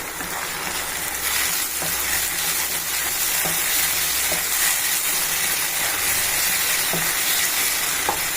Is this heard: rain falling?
no